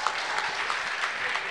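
An audience at a Haitian carnival music awards show applauds, a steady wash of many hands clapping at moderate distance and fairly faint, lasting the whole moment.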